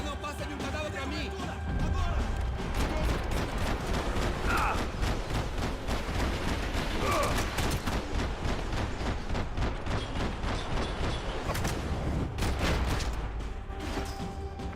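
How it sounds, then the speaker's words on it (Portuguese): Gunfire in the video game Max Payne 3, with dense bursts of shots, crashes and mechanical clatter running continuously under a player's talk. "Eu tô dando 30 tiros no cara, o cara não morre."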